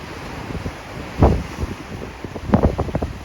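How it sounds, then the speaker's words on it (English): Wind buffets the microphone at a beach at Cape Maeda in Okinawa, with low surf washing in beneath and a few sharp gusty thumps standing out. "So in Okinawa, this is the beach."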